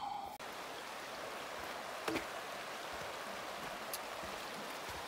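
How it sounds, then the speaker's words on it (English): Soft, continuous babbling of a mountain stream flows steadily in Mount Robson Provincial Park, gentle and even, with no voices. "soothing sound of babbling water."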